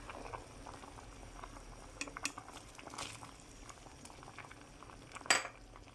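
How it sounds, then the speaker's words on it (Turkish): Beyran soup boiling in a pot, a quiet, steady bubbling and gentle popping heard close, with a few faint clinks and one sharper knock near the end. "Bu şekilde güzelce kaynadı, tam kıvam aldı."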